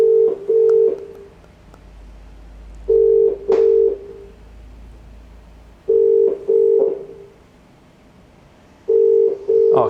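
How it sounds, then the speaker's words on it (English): A telephone ringing tone repeats in paired bursts at even intervals, clear and close, with no speech over it. "Let's phone Keiran Lockton."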